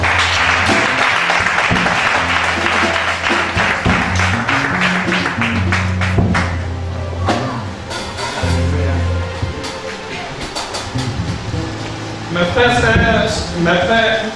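A church congregation claps and cheers in loud, sustained applause at a pastor's consecration service in Togo, with voices and music mixed in throughout.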